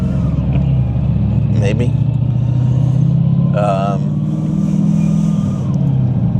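A modified street car of roughly 350 horsepower with a loud exhaust, its engine droning and rising slightly in revs close by, with someone talking over it.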